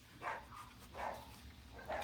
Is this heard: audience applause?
no